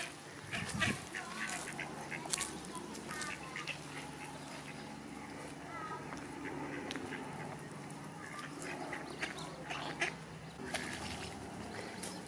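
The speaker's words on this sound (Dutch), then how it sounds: "Word je achtervolgd door de eenden?" Ducks quack repeatedly at a pond while being fed, several birds calling near and far in irregular bursts over a low outdoor background, with faint voices in the background.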